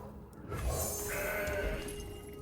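A mountain goat card from the Legends of Runeterra card game gives a single bleat lasting about two seconds, clear and close, over a faint game hum.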